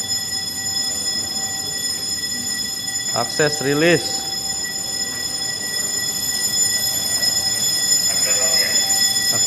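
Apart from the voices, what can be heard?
fire alarm test with break glass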